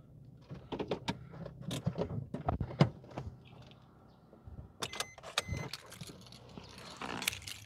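Keys on an aftermarket fob for a 2020 Suzuki Swift automatic jangle and clink in a series of sharp metallic bursts, close by, with quieter handling noise between them and no talk.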